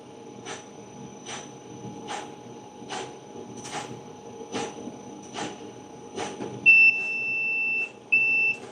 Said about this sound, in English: You'll hear the beeping sound from the machine telling me that it has reached the desired temperature